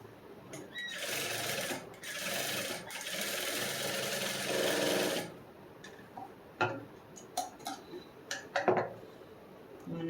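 A sewing machine stitches a back-open princess-cut blouse, running in a loud continuous burst for about five seconds, then giving way to softer scattered ticks and clicks of fabric handling.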